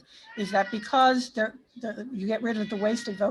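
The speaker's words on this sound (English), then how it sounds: "pardon my cat" A pet cat meows during a panel discussion, its voice tangled with a man's continuous nearby speech so the cries blend into the talk.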